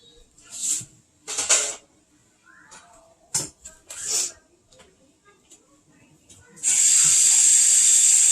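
Hot water gushes from a tap into a sink, starting abruptly near the end as a loud steady splash, after scattered clinks, knocks and brief handling noises in a kitchen.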